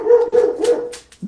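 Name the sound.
dog barking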